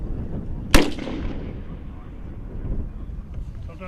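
A MAAWS recoilless rifle fires outdoors with one sharp, very loud blast, then a long rumbling decay under wind noise and the low murmur of nearby voices.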